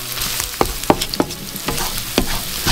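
Red onions cooking with brown sugar in a pan give off a steady sizzle and fry. Several sharp stirring scrapes and clicks break through it at irregular moments, close and moderately loud, with no voices.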